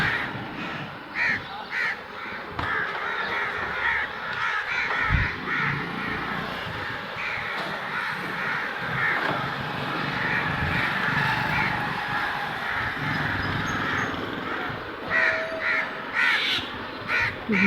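A flock of crows caws outdoors in alarm, many harsh, repeated calls overlapping in bursts at close and middle distance, with steady ambient noise underneath and little pause throughout.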